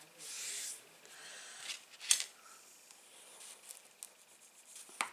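Paper being folded by hand into a tea bag envelope, soft close rubbing and creasing with a sharp crinkle midway and a faint tap near the end, quiet and without talk.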